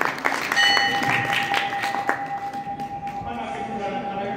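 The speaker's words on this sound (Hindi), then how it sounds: "इनके लिए ताली बजा दो" A small audience claps for a contestant at a Hindu spiritual quiz session, with scattered hand claps over a steady tone and some voices, fading as the clapping thins out.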